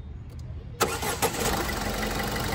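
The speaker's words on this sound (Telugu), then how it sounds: "సింగిల్ సెల్ఫ్లో అయితే వెహికల్ స్టార్ట్ అవుతుంది" A Ford EcoSport Titanium Plus engine cranks briefly and catches on a single self-start, settling into a steady idle nearby, no talking.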